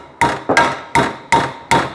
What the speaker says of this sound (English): This bit that I'm hitting with the ball peen hammer never should have been there.